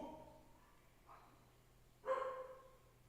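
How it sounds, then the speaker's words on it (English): A dog gives two short barks at a distance, a faint one and then a louder one, over a quiet background hum. "Fucking dog."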